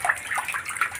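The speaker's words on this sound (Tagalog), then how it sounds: "Lalagyan ko na siya ng tubig." Water is poured by hand into a backyard concrete catfish pond, a loud, continuous splashing gush with bubbling turbulence throughout, close by.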